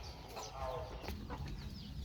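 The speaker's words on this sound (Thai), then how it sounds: "ไปเบิ่งไก่แจ้กัน" Soft, faint bantam hen clucking in short bursts, with quiet voices talking in the background.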